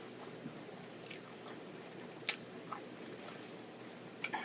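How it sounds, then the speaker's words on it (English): Bites and chewing on Mexican street-vendor corn on the cob (elote), a few soft crunchy bite transients over quiet, steady mouth sounds, close and faint with no talking. "So go ahead and take the first bite. And then I can go ahead and take my first bite."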